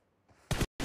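An M416 rifle is reloaded in PUBG Mobile, heard as a faint metallic rattle followed by two sharp, loud mechanical clacks in quick succession, up close and with no talking.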